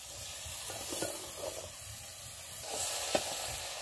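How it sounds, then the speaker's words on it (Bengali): Potato curry sautéing in oil on a clay stove, a soft steady sizzle broken by scraping stirs and a few light utensil knocks, close and moderately quiet. "তো এটা এখন ভালোভাবে কষিয়ে নেওয়া হবে"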